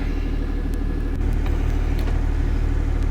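A tractor engine drives steadily in a farming simulator game: a constant low mechanical rumble with a slight rise partway through, loud and close with no talking.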